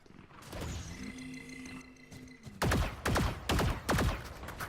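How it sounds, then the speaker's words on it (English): Valorant game ambience with faint tones, then several loud gunshot bursts in quick succession, sharp and booming, close by, with no talking. "we do have some gunshots going off."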